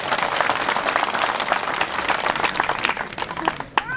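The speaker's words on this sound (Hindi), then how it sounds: "जोरदार तालियां मार दो जरा।" Dense, sustained applause from a large crowd at a political rally in Haroli, steady and loud throughout, with a voice breaking through near the end.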